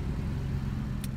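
Toyota Corolla fitted with a Vibrant muffler and DC Sports Stealth Series 3-inch exhaust, giving a steady low engine drone that holds even and close throughout, with a faint brief hiss near the end.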